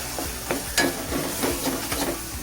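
Chutney spice mix dry-roasting in a pan for a Maharashtrian thali, a soft steady sizzle broken by repeated scraping stirs at a close, moderate level.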